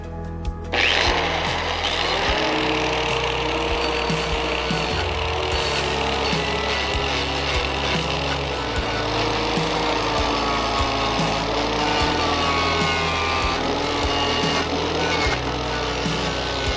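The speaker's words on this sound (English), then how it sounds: "I'll start by using a rotary grinder with a wire brush to get the paint off of the edges where I'm going to weld" A rotary grinder fitted with a wire brush strips paint from the edges of steel on a barbell rack, a loud continuous close whirring grind with scratchy brushing texture that holds steady for the full stretch.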